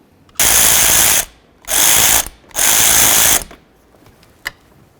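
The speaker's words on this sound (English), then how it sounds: "If you look inside here, you're going to see a T30 bolt. We're going to remove that." A ratchet works a T30 bolt loose inside a 2005-14 Ford Mustang door, three quick bursts of rapid clicking close to the mic, separated by short pauses, followed by a faint tap.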